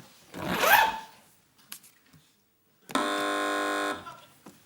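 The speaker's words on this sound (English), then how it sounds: "A zip? It was a zip, yeah." A zip being done up, played as a sound effect: a steady buzzing rasp of about a second stands out clearly after a brief earlier burst of noise.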